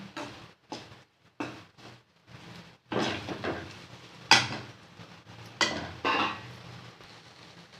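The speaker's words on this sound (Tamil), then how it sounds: "இப்போ மூடி போடாமல் ஒரு பத்து நிமிஷம் அப்படியே வதக்கி விட்டுக்கிட்டே இருக்கலாம்" Ivy gourd pieces are sautéed in an uncovered pan as a metal spatula clanks and scrapes in irregular bursts, separated by short quiet gaps, close and moderately loud, with no voices.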